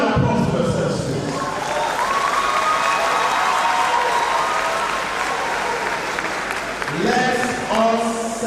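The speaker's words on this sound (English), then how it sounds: "A round of applause for yourselves, please." Large audience applauding at a university convocation ceremony for the award of first degrees, a dense sustained round of clapping with cheering voices mixed in, fading as a speaker's voice returns near the end.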